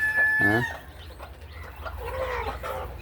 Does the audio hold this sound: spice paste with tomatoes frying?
no